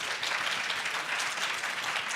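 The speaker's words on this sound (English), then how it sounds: "Let's give them a round of applause." Dense, even applause from a seated audience greeting a panel of speakers at a conference, sustained and steady without breaks.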